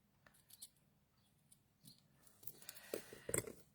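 Scissors snipping through a thin strip of material edged with silver, a few quiet close cuts building to sharper crisp snips near the end.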